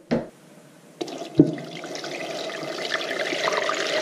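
Water poured into a smart canner and cooker set up for water bath canning sauerkraut jars on a rack, with a couple of sharp clunks at the start, then a steady, gently rising stream splashing into the pot.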